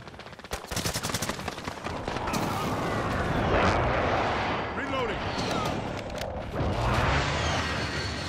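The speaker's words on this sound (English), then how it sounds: "Friendly precision airstrike on the way" Precision airstrike explosions in a multiplayer shooter game crash and rumble continuously for several seconds, with dense bursts of gunfire-like blasts layered over a sustained booming roar, loud and close, while a voice speaks over the action.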